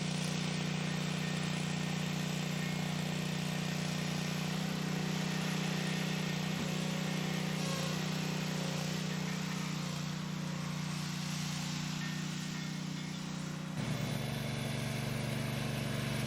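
A Hatsuta 500 kg green roller's engine runs steadily and loud up close, with a constant droning hum and vibration that shifts slightly in pitch near the end.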